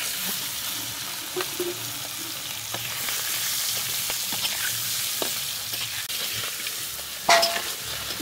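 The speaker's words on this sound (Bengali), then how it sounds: "এখন কড়াইতে সরিষার তেল দিয়ে চিংড়ি মাছগুলো ভেজে নেব।" Salted, turmeric-coated prawns fry in mustard oil in a wok with a constant close sizzle, punctuated by occasional clicks and scrapes of stirring and one louder clatter near the end, no voices.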